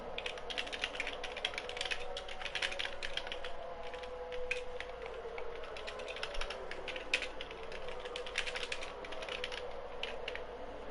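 Rapid typing on a computer keyboard to enter a vote in the in-game chat during a GT Sport online race, with dense irregular key clatter running steadily throughout over a low, quiet background hum.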